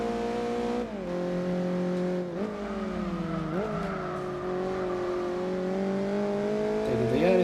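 Racing engine of a Toyota Yaris in Gran Turismo 4, droning loud and steady, its pitch dipping sharply at several gear shifts, then climbing again under hard acceleration.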